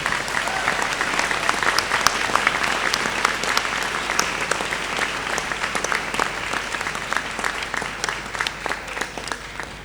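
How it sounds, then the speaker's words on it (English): A crowd claps steadily for graduates at a Monash University graduation ceremony, with dense sustained applause for the whole stretch and no talk. "I think we should again applaud our wonderful graduates."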